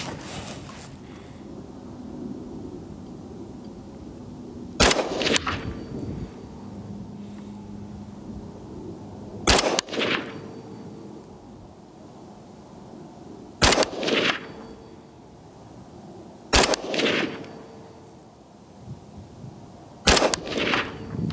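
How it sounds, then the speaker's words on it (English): A Palmetto State Armory Sabre MK12 rifle fires five loud, sharp single shots spaced roughly four to five seconds apart, each with a brief echoing tail over a quiet outdoor background. "I'm going to shoot one more grouping in the top right diamond"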